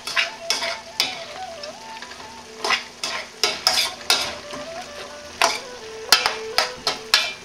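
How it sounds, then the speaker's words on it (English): Pork belly and cabbage being stirred in a frying pan, with repeated scraping strokes over a steady sizzle, close and fairly loud, and no talking. "let's mix all those flavors in with the pork and cabbage"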